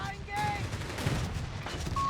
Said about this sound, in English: After they're supporting with its 20mm autocannon, which is very much the standard for German reconnaissance vehicles.